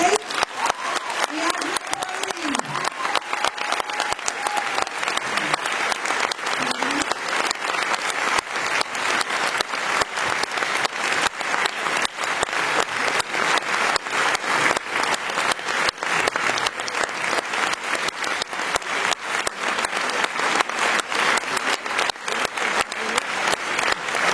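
A Paris cinema audience at a film premiere claps in sustained, dense applause that holds steady and loud throughout, with a voice heard briefly near the start.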